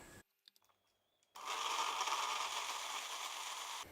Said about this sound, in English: I'll just strain these and add these to the blender